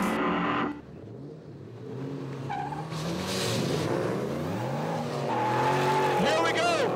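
Drift cars at a Formula Drift event in Houston, a Nissan S14 against a 2005 Ford Mustang, scream with revving engines and squealing tires; a commentator talks excitedly over the rising, sweeping engine and tire noise.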